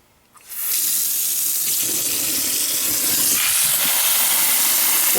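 Tap water gushes into a pot of soaking pinto beans, a loud steady splashing hiss that starts abruptly after a brief quiet moment and runs on evenly and close by.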